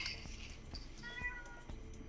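A faint, short cat meow, quiet and somewhat distant, over a low background hum.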